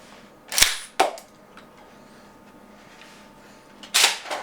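An APS CAM870 airsoft shotgun fires wax slugs, giving sharp, loud, close pops: two shots about half a second apart, then a third after a quiet gap, each followed by a brief mechanical clack.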